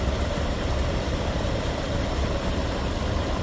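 A Jeep Grand Cherokee 4.0 engine idling with a suspected overheating fault or blown head gasket, a steady low rumble that holds even and close for the whole stretch with no talk.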